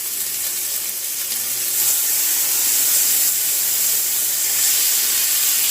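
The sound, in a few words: onions sauteing in butter in a pan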